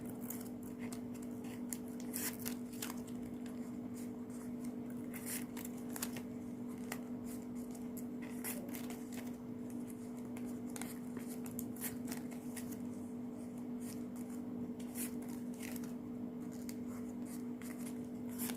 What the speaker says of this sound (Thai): ตัดปลายดิบบิ้นทิ้ง